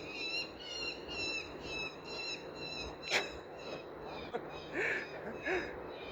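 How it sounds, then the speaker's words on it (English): Birds sing and chirp outdoors in repeated high warbling phrases, moderately near, with a soft ambient background and a couple of brief clicks. "Hear the birds?"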